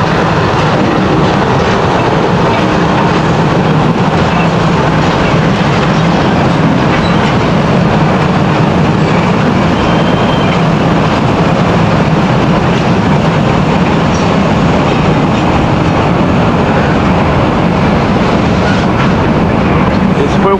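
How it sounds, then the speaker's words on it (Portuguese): A train rumbles steadily downhill past on the rails of the Paranapiacaba railway in Brazil, loud and close, with continuous wheel clatter and grinding throughout. "Mais um trem descendo."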